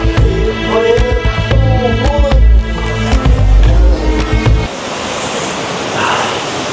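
Hulugan Falls in Laguna pours a loud, constant roar of water; sharp knocks and thumps sound over it at first, then the rushing continues steady and alone.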